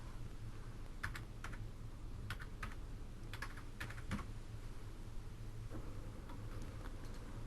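Keystrokes on a computer keyboard come in short, scattered bursts of clicks over a steady low hum, entering a date into an Excel 2013 spreadsheet. The clicks sound fairly close but quiet, with no talking.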